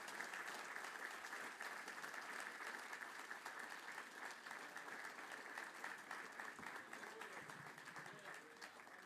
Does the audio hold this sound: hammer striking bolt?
no